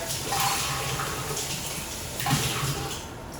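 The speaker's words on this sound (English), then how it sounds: "I'm going to rinse the rest of the seeds out with some water" Running tap water rinses seeds out of a halved pepper, a close, steady splashing gush with brief shifts as the pepper moves under the stream.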